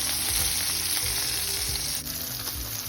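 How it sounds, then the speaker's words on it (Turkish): Bluefish frying in a pan with oil, giving a steady, dense sizzle that stays loud and continuous throughout, with faint low clatters from the pan. "şimdi balıklar kızarırken"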